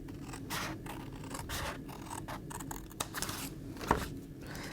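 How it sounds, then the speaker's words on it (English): Scissors snip through cardstock along a diagonal line for a gift box, a run of close, crisp cutting strokes with short pauses between them, quiet and free of talk. "Now I want you just to come in with the scissors and just cut along this diagonal that we've just drawn on there."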